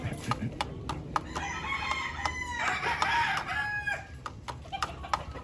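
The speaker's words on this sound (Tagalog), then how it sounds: "Ang ganda ng mga inahin niya." Hens at a Filipino game farm clucking and calling repeatedly close by, with a rooster crowing in the middle, over a steady farmyard background.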